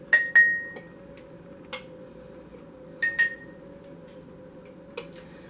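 Glass jars clink sharply as minced garlic is spooned into them, a few quick paired chimes near the start and again around the middle, with one softer tap near the end over a steady low hum from a kitchen.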